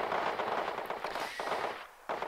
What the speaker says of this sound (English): And the sound of gunfire.